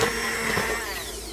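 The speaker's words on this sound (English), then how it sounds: "if you don't have an emulsion blender, I really suggest you get one" An immersion blender whirs through baked potato soup in a pot, a loud steady motorized drone with a slight wavering pitch, close and continuous without any voices.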